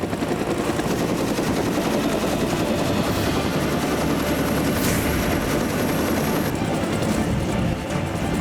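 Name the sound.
military helicopter over the sea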